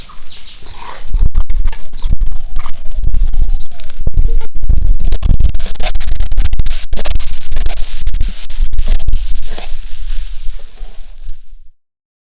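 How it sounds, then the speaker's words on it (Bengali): Lentils (dal) are poured into a pan while cooking Bangladeshi ilish khichuri, giving a loud, close, continuous scratchy rattle and sizzle that lasts about ten seconds and then stops abruptly. "এবার ডালটা ঢেলে দেব।"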